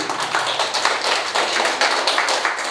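Applause for a family at the opening of a new space for children and youth with disabilities: close, loud, brisk clapping in a rapid, even patter that fills the whole moment.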